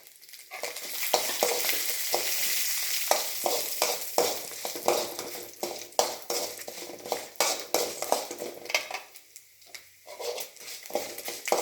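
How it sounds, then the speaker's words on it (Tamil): Chillies and garlic fry in a pan with a crackling sizzle, and a utensil stirs and scrapes against the pan in frequent irregular knocks, close and moderately loud. "இதை நல்லா செவக்க வறுத்தரணும்."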